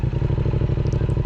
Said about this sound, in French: Ok, bon là on allume la moto.